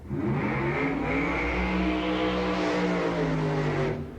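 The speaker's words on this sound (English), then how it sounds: "Side-by-side burnouts in the final modified eliminator." Modified eliminator drag cars perform side-by-side burnouts at a 1989 drag strip, a loud sustained engine roar with rising revs and tire noise lasting several seconds.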